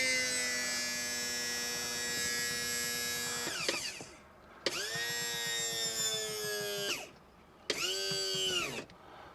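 The electric hydraulic trim pump motor on a 1973 Cobalt boat lowers the drive with a steady whining hum, stops, then runs in two shorter bursts with brief pauses between, close and clear.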